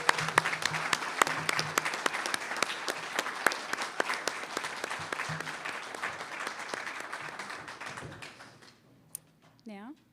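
A crowd at a dental assisting pinning ceremony applauds the graduates with steady clapping that fades out, followed by a brief moment of quiet and a faint voice.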